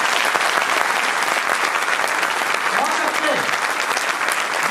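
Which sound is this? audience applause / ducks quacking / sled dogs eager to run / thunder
audience applause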